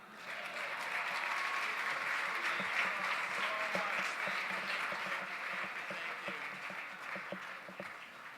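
Sustained audience applause fills a gala fundraiser hall, a dense steady wash of many hands clapping at fairly even loudness throughout, with no speech over it.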